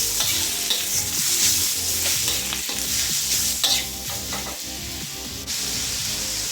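Pork meat with garlic frying and being stirred in a pan, a steady loud sizzle broken by rhythmic scraping strokes of a utensil, with no voices.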